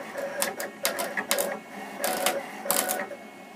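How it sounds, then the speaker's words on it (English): A vinyl cutter machine working on vinyl film for acrylic stickers gives off close, intermittent mechanical whirs and clicking bursts over a steady motor hum. "Now the vinyl film will automatically start printing."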